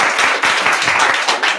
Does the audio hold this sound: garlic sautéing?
no